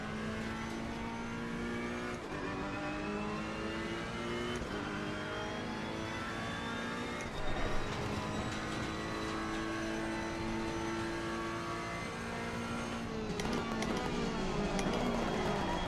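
Race car engine in a sim racing game driven with a Fanatec CSL Elite wheel, revving up and down through repeated gear changes, fairly faint and continuous with rising and falling pitch.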